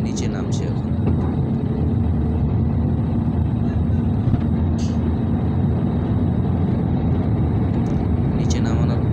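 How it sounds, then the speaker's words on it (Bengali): A passenger airliner landing at Mumbai on a flight from Bagdogra fills the cabin with a loud, steady engine and airflow roar, with a voice talking over it. "এই যে ল্যান্ড হচ্ছে, নিচে নামছে এখন।"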